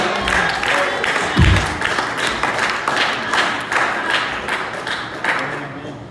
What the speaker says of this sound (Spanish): Yo creo que Él se merece un aplauso en esta noche.